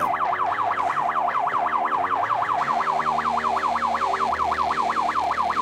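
A loud wailing ambulance siren sweeps rapidly up and down in a steady, continuous yelp, close by, with a low engine rumble underneath as traffic gives way on the road.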